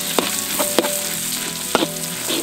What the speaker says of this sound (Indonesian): Sekarang kita goreng bumbu yang sudah dihaluskan tadi.